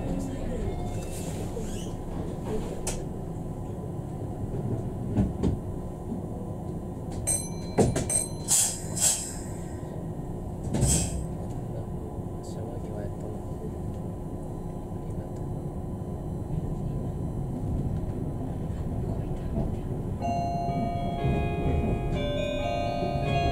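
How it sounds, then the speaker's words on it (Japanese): A Meitetsu limited express train departing and running, a steady low rumble under the cabin with some clatter and brief bright squeals, then rising motor whine toward the end, with quiet voices in the background. "この列車は一部特別車特急豊橋行きです。"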